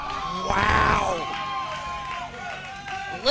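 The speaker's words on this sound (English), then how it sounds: "Listen to this crowd," A crowd at a wrestling match roars and cheers loudly, swelling into a peak of shouting and whooping before settling into a sustained excited din with scattered yells, and a commentator talks over it.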